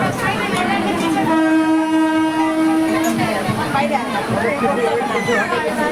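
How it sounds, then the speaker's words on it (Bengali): A train pulls into a station with a loud, sustained horn blast in the middle and the rumble and rattle of rolling wagons around it, with voices mixed in. "খেয়ে এবার আমরা দেখি ট্রেন চলে এসছে"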